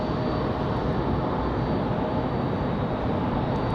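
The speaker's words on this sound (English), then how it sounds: "So nice smooth landing for United." A United airliner landing at Raleigh-Durham airport on a windy day, a steady broadband jet roar with heavy low rumble that holds constant throughout, no speech.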